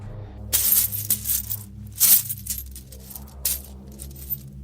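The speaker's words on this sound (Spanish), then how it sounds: "el sonido de estas, al chocar entre sí, era lo más hermoso que podía oír" Gold coins clink and jingle together in several bright metallic bursts, irregularly spaced with short quiet gaps between them, close and fairly loud.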